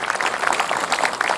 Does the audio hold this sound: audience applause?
yes